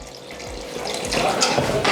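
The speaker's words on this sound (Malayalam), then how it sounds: "നമുക്കിനി നമ്മുടെ മസാലയിലോട്ട് 500 മില്ലി വെള്ളം ഒഴിച്ചു കൊടുക്കാം." About 500 ml of water is poured into a pan of fried masala for a Cobia fish curry, a short splashing pour that grows louder and fuller as it goes.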